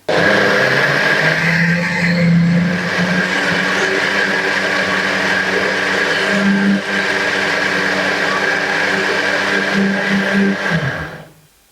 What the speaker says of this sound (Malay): Ini kita kisar sehingga dia betul-betul halus.